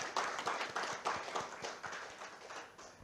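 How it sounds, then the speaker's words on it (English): Applause welcoming the guest of honor at a real estate summit's inaugural session, a few hands clapping in a loose, uneven rhythm, fairly faint and sparse rather than a full crowd. "I request everyone to kindly give a round of applause and welcome our guest of honor"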